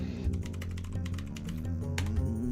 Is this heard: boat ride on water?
no